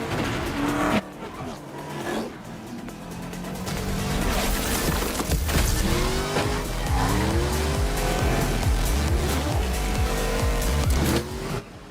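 Race cars in the Rocket Racing video game roar continuously with loud engine noise and repeated squealing tire skids that sweep up and down in pitch, a dense, unbroken wash of racing sound.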